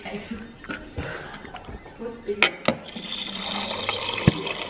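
Water runs from a tap into a cup in short splashy bursts and trickles, fairly close, while people talk over it.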